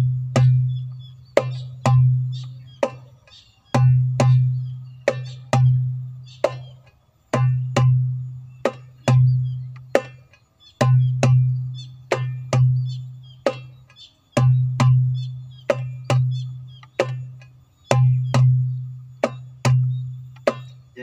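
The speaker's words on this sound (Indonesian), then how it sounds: "Jadi Darbuka Rhythm Baladi." Darbuka played in the baladi rhythm, deep resonant doum strokes alternating with sharp tek slaps in a steady repeating cycle, close and loud with no talking.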